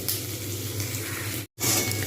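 Cauliflower frying in hot oil, giving a dense, steady sizzle that cuts out for a moment before resuming just as loud.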